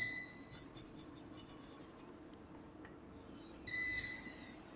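Chalk or marker writing on a classroom board makes faint, continuous scratchy strokes against a low background hum, with a couple of soft high electronic tones near the start and end.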